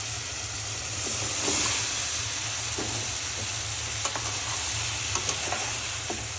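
Ridge gourd going into a pan of prawn masala with jackfruit seeds, giving a steady close sizzle with soft stirring scrapes and a few light clicks toward the end.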